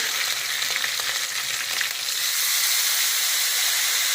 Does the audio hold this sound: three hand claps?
no